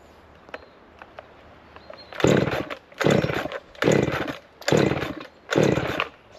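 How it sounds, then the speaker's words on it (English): A chainsaw cutting branches off a log roars in five loud bursts, each revving for about a second with short pauses between, close by, after a quiet start. "if the chainsaw starts"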